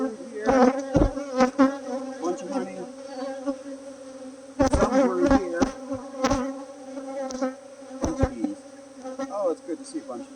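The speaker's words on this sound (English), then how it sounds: "good to see a bunch of bees." Honeybees buzz loudly and continuously at close range at an opened hive, a droning hum with several louder bursts as insects pass near.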